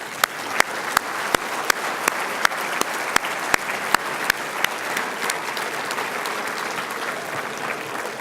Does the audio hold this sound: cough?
no